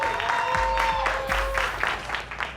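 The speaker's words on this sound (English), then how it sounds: "Please give a big round of applause to Monique Linnae." An event audience applauds at a business gathering, a dense, steady stretch of clapping with a bright sustained tone and some crowd noise mixed in.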